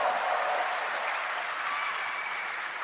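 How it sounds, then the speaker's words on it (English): A large audience at Gamescom in Germany gives steady, dense applause throughout, a continuous roar of clapping with no break, heard from within the crowd. "Wow, what a great crowd."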